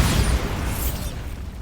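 A Bombarda blasting spell detonates in Hogwarts Legacy, a loud booming explosion with a rumbling low-end roar that fills the whole moment and slowly fades.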